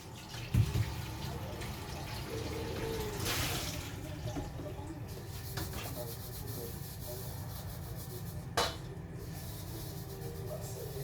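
Water runs from a kitchen tap while a wok lid is rinsed and rubbed beneath it, a steady soft rushing that continues throughout with a couple of brief clunks.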